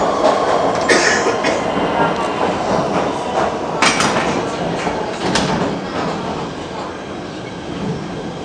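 A PATH subway train bound for 33rd Street and Hoboken rumbles steadily along the track, with a continuous roar and occasional metallic rattles and squeals, close and loud throughout.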